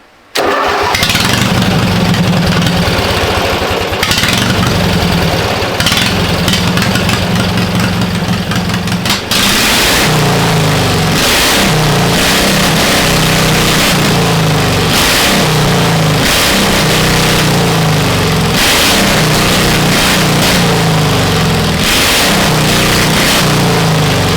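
A pulling tractor engine cranks roughly for several seconds, then catches and runs loud and steady close by, its idle pulsing unevenly, with no talk over it.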